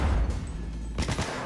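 Gunfire in the video game Cyberpunk 2077 rattles as a rapid volley of shots, a low booming burst at the start and another quick cluster of reports about a second later, fairly close and punchy.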